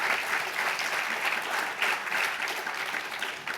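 Audience applause fills a room at a political discussion, dense steady clapping from many hands sustained throughout without a break.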